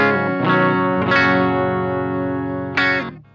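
A Gibson Les Paul Studio Modern with its humbuckers switched out of phase plays three clean chords through effects, thinner and more hollow in tone, with a short sustain and a fade at the end, close and alone.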